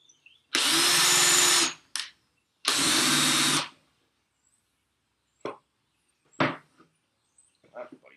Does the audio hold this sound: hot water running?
no